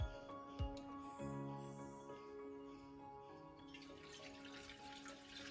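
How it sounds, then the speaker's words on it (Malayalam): Water poured into the base pot of a puttu steamer, a faint splashing trickle that builds toward the end beneath a quiet background hum. "ഇതിൽ നമ്മൾ വെള്ളം ഒഴിക്കുന്നു"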